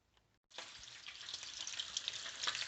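After a moment of near silence, a dense crackling sizzle of bacon frying in a frying pan starts abruptly and keeps going, with sharp pops spattering through the steady frying hiss.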